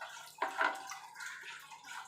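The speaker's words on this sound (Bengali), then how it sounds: "এবার আমি এর মধ্যে অল্প করে ঠান্ডা জল দিয়ে দেবো।" Cold water is poured in a short splashing stream into a bowl of yogurt while making a chilled buttermilk drink, a brief gush near the middle with softer trickling after.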